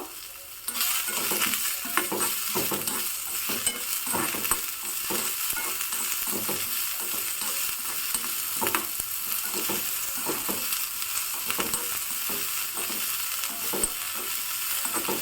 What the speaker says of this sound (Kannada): ಸಣ್ಣ ಸೈಜಿನ ಈರುಳ್ಳಿಯನ್ನು ತಗೊಂಡು ಸಣ್ಣದಾಗಿ ಕಟ್ ಮಾಡಿಬಿಟ್ಟು ಹಾಕಿ ಹುರ್ಕೋತಾ ಇದ್ದೀನಿ